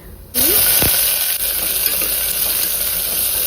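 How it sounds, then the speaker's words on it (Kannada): Onions frying in a pan of oil and ghee, with mustard seeds in the fat: a steady, loud sizzle that starts abruptly after a short quiet moment and keeps going with a few stirring clicks, and no voices. "ಈರುಳ್ಳಿ ಚೆನ್ನಾಗಿ ಬ್ರೌನ್ ಆಗೋವರೆಗೂ ಫ್ರೈ ಮಾಡಿ"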